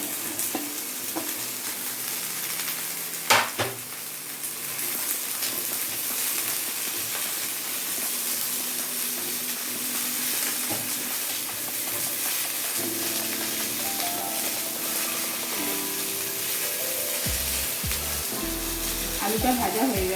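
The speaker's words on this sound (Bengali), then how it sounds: "পেঁয়াজটা হালকা ভাজা হয়ে গেছে, তার মধ্যে এবার আমি আলুটা অ্যাড করব" Potatoes frying with lightly browned onions in a pan for a potato curry, a steady sizzle with stirring scrapes and a sharp clink early on, continuing throughout without talk.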